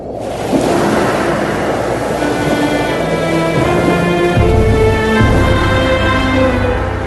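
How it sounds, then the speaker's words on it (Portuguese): A dramatized effect of a strong east wind driving the sea back, a loud, continuous roar of wind and surging water with deep rumbling beneath and sustained tonal drones layered over it. "com um vento leste muito forte, fez com que o mar recuasse"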